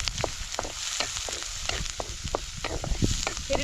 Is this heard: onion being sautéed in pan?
yes